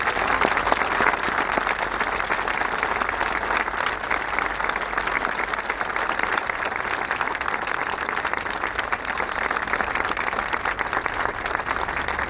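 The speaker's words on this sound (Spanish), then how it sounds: "así que le pido un fuerte aplauso para ellos" Continuous audience applause at the inauguration of a health centre, a dense, steady wash of clapping that holds evenly throughout.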